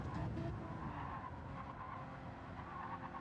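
A Porsche race car laps the Daytona infield in practice, a steady, fairly distant engine drone with a faint tire squeal running throughout.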